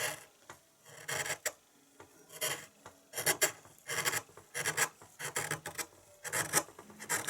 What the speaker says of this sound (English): here I am carving the underside of the swallow wing by carving across the